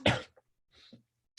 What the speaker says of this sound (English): I apparently have a great cough right now.